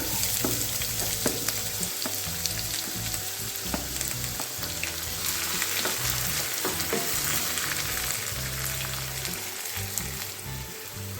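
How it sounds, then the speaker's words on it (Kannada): Chopped onions go into hot oil with urad dal and chana dal for a methi leaves chitranna, giving a loud, steady sizzle and crackle. Occasional stirring scrapes sound close up, with no speech. "ಈಗ ಉದ್ದಿನ ಕಡಲೆ ಕಡಲೆಬೇಳೆ ಫ್ರೈ ಆಗಿದೆ ನಾವು ನೀರುಳ್ಳಿ ಹಾಕ್ಕೊಳ್ಳೋಣ ಕಟ್ ಮಾಡ್ಕೊಂಡಿರುವಂಥದ್ದು"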